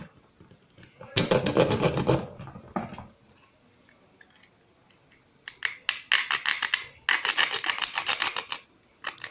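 A small saw blade rasps in quick strokes while it widens the slot for a touch light's sliding charging pin, coming in close bursts separated by quiet gaps.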